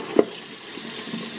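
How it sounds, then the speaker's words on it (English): Warm tap water running steadily over a Cricut cutting mat in a sink, a close, even hiss and splash with a brief knock near the start and no talking. "Now I'm just gonna rinse this off with some warm water."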